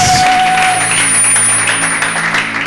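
A church congregation claps for the pastor's family, a dense, continuous wash of applause that stays loud and close for the whole stretch.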